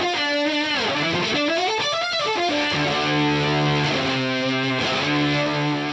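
Synthesizer run through fuzz distortion with chorus added for a detuned sound, bright buzzy harmonic tones playing a melodic line with pitch glides, loud and continuous, alone with no voice.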